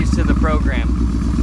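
Up close, a Yamaha Bolt motorcycle fitted with a new Dean Speed aftermarket exhaust idles with a loud, deep, uneven loping thump that stays steady throughout.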